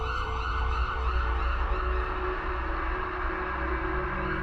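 Ambulance siren at an abandoned hospital, a steady wail held over a constant low engine rumble, loud and unbroken throughout with no voices.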